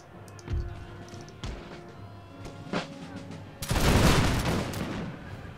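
Musket volleys crack in the Empire Total War battle, a few sharp isolated shots followed by a loud sustained burst of massed gunfire near the end, with no talk over it.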